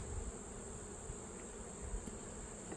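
Honey bees hum around an open hive being inspected, a soft, steady buzzing drone with faint passing wing noise, quiet and continuous.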